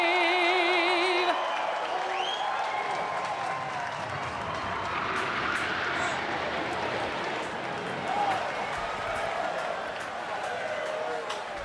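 Stadium crowd at Belmont Stakes Day horse races cheering and applauding after the anthem flyover, a broad sustained roar with scattered whoops filling the space, with some talk mixed in.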